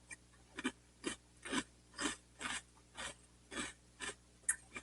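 Crunchy Choco Shells cereal being chewed close up, about ten regular crunching bites in a steady rhythm, each a short sharp crackle over quiet background, no talking.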